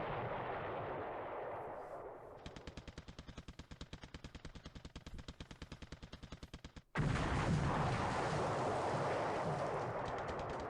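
Torpedo strikes and blasts against a warship in the War in the Pacific naval game, heard as a roaring explosion, then a long run of rapid, regular cracking bursts, followed by another loud sustained blast.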